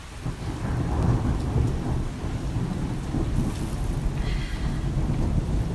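Steady heavy rainfall with deep rumbling thunder rolling through, loud and close, no voices.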